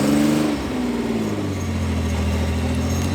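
A lowrider car drives with its engine running loud and close, the pitch dropping steadily as it settles from a higher whine into a low rumbling drone while hydraulic switches are hit.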